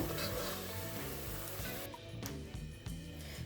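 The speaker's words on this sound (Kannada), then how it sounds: "ಈ ಥರ ಇದು ನೀಟಾಗಿ ಫ್ರೈ ಆಗಬೇಕು ತುಪ್ಪದಲ್ಲಿ." Ingredients for sheer khurma fry in ghee in a pan, a quiet, continuous crackling sizzle with light stirring scrapes near the end and no talking.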